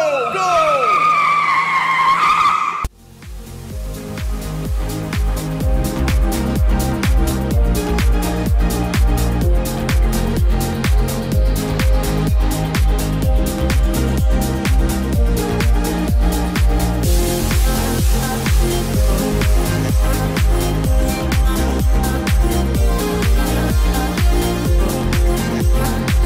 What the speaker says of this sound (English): let's take a ride on Stealth